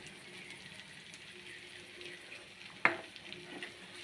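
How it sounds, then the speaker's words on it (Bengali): Cashews, ginger and green chili stirred in a frying pan of hot oil for a vegetarian dish, a low steady sizzle with light scraping and one sharp utensil knock partway through. "কাজু আদা আর কাঁচা লঙ্কা দিয়ে এটাকে একটু নাড়াচাড়া করব"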